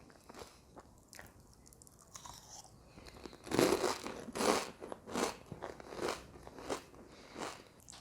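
Close, crisp bites and chewing of a crunchy fried money bag wonton dipped in chili sauce, several sharp crackling crunches in an uneven rhythm after a few quiet seconds.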